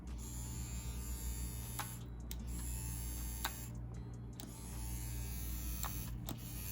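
A CNC WE Plus wireless tattoo machine fitted with a quill round mag needle cartridge runs with a faint, steady electric buzz and hum. A few soft clicks sound over the continuous drone, with no one talking.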